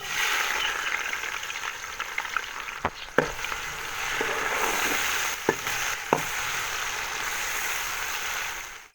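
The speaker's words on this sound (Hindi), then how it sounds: "तो अब उसी कुकिंग ऑयल में हम प्याज शामिल करेंगे।" Onions frying in hot cooking oil for a vegetable biryani, a steady loud sizzle with occasional clicks and stirring knocks, no talking.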